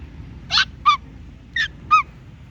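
Four loud honking calls from a duck or goose in a quiet park, two paired bursts spaced apart, close by and clear over faint background hiss.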